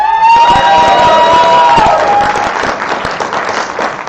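An audience at a community poetry reading claps and cheers loudly, with a whooping voice at the start and applause thinning out toward the end.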